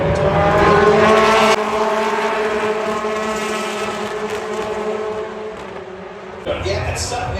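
BTCC touring race cars at Silverstone roar loudly at full throttle along the straight, engine notes shifting as they jostle in a close battle, with a commentator talking over the continuous engine noise throughout.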